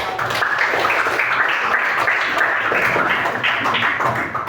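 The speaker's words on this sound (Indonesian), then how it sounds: "kita kasih aplaus untuk" Audience claps together after a group presentation in a classroom session, a dense, steady patter of many hands that holds for the whole stretch, close and fairly loud.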